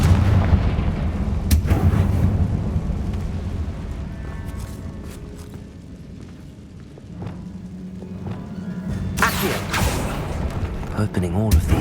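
Confringo fire spells burst in Hogwarts Legacy: loud, booming blasts with rumbling, crackling tails in a tomb, recurring across the stretch while someone talks over them.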